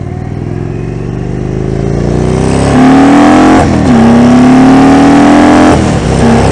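A 2019 Indian Springfield Dark Horse motorcycle engine revs up close, its steady rising pitch climbing through a shift and pulling hard again under load, loud and continuous with no talking.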